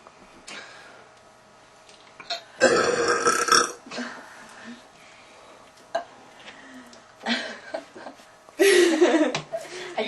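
Three blonde girls burp very loudly, with several long, rough belches spread across the stretch, separated by quieter gaps with brief laughter and chatter.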